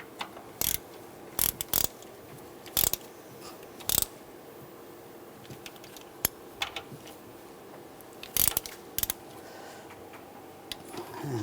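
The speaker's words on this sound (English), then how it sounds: "get those started, and tighten these bolts down." A ratchet clicks in short, scattered bursts while tightening bolts on the EGR tube of a 1999-2006 Chevrolet Silverado 1500, with sharp ratcheting spurts separated by quiet gaps over a faint background.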